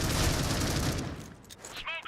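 Rapid gunfire bursts from the mobile shooter Critical Ops during a 2v2 esports tournament match, dense and loud at first and then thinning out, with a commentator's voice running underneath.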